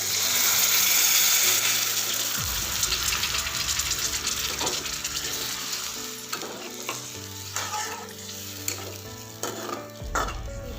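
A little water goes into spiced masala frying with jackfruit for a curry, giving a loud, close burst of hiss and sizzle that settles into steady frying with scattered stirring clinks.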